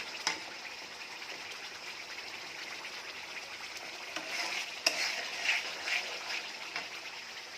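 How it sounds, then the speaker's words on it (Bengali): Spice masala frying in oil in a pan, with a steady close sizzle and occasional stirring scrapes and clinks, without any talking. "এই যে মশলাটা কষে গেছে, তেল ছাড়তে শুরু করেছে"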